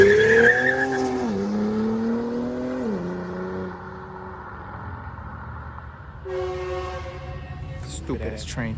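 Horn of a passing train sounds in sustained, shifting blasts that overlap a car's rumbling engine. A second, higher horn burst follows near the end, fairly loud.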